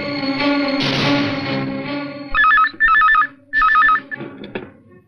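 A telephone rings in three loud electronic warbling bursts, following a stretch of music-like tones, then falls quiet.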